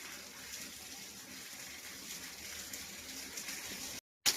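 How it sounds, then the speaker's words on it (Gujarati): A steady, faint rushing of heavy rain in Porbandar pours without pause, ending in a brief cut. "પોરબંદર માં ધોધમાર વરસાદ ચાલુ થઈ ગયો"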